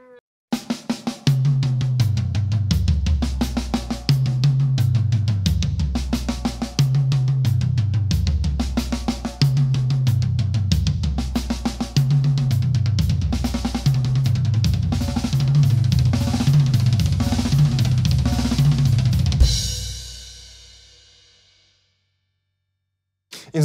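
A drummer plays a repeating fast fill around the toms that descends to the floor tom and lands on the snare, loud and close, looping steadily for about twenty seconds before the ring fades out.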